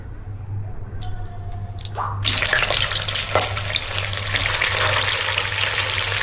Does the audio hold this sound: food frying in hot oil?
yes